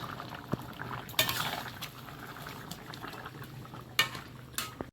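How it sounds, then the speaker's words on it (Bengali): A pot of fish head curry boiling, with a soft bubbling simmer throughout and a few sharp clinks of utensils against the pot, heard close without talk. "আগেই মাছের মাথাটা দিয়েছি ওটা ভালোভাবে সেদ্ধ হবে"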